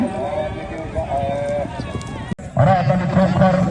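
Horse hooves clip-clop steadily, with a whinny-like call and voices over the top, then a brief drop before louder, busier hoof and crowd noise resumes.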